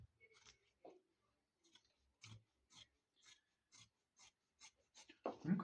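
Scissors cut through denim jeans fabric at a hem, giving a series of faint, close, evenly spaced snipping crunches in a quiet room, ending with a louder rustle of handled cloth.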